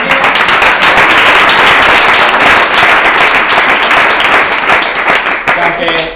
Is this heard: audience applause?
yes